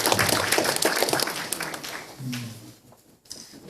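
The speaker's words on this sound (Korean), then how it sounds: "그 박수로 환영해 주시면 감사하겠습니다" A church congregation claps to welcome a member, a burst of fairly close applause that fades after about two seconds into quieter sounds with a voice briefly speaking.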